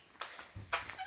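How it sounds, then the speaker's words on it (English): A big yellow rooster on a farm gives a few quick, short clucks in uneven bursts, close by and fairly soft, with no talking. "Let's go see our big, huge rooster."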